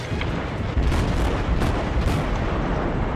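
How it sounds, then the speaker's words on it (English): Heavy naval gunfire in World of Warships, a dense, continuous roar of overlapping booms and blasts with several stronger bursts standing out, loud and close throughout. "I unfortunately can't tell which gunfire is mine and which is someone else's."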